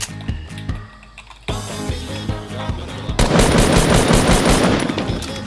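Rapid video game gunfire rattles in dense automatic bursts, loud and close, with a heavier barrage building toward the end.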